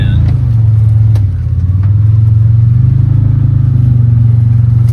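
A four-wheel-drive vehicle stuck on an overgrown hunting-property trail, its engine revving loud and close in a steady low drone that dips briefly, then holds.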